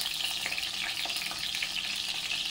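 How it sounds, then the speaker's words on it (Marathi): Eggplant fries in hot oil, a steady, close crackling sizzle with bright spitting pops that continues evenly throughout, no voices over it. "आणि आता हे वांगे आपल्याला थोडे फ्राय करून घ्यायचे। तेल बघा गरम झालंय"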